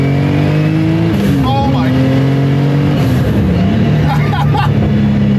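An 840-horsepower sports car with a Porsche-like shape roars loudly from inside the cabin, its engine note climbing and shifting through steady revs, with voices talking over the drone.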